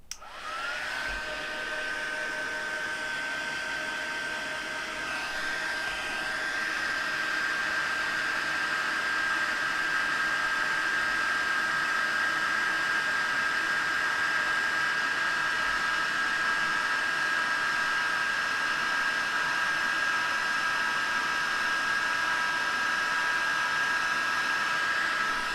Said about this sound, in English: Just going to heat set this. It's going to get a little bit noisy.